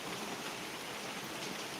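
Light summer rain falling in a steady, soft hiss of fine drops, faint and even throughout.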